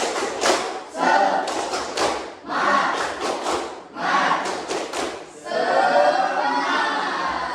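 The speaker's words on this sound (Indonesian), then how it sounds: "1, 2, 3, tepuk semangat." A primary-school class in an Indonesian religious lesson performs a rhythmic spirit clap, bursts of claps and thumps in patterned groups, fairly close and loud, with children chanting along between the clap sequences.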